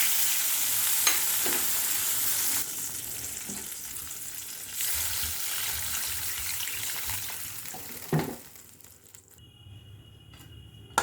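Fish roe and mango fry in a pan with a strong, continuous sizzle that eases slightly midway, then drops away almost to silence near the end.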